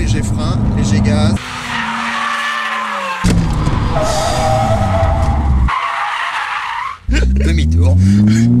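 A Salmson Val 3 car's engine revs hard and tires squeal in a long skid as it swings through a U-turn, loud and close, with a brief engine surge between bursts.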